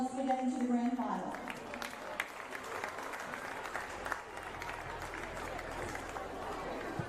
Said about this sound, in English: Let's give both teams a big round of applause for getting to the grand final.